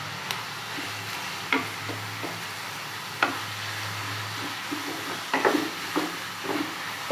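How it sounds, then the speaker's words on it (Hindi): Finely chopped onions frying in two spoons of oil, a low steady sizzle broken by occasional sharp spatula taps and scrapes against the pan, close and fairly quiet, with no talking. "दो चम्मच हमने ऑयल डाला है। प्याज ऐड कर देंगे। बहुत बारीक काटी प्याज हमने।"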